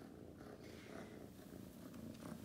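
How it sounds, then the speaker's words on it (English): A steady, loud purr from a close-up Siamese kitten, continuous rumbling throughout with no talking. "Listen to that purr. He has the loudest purr."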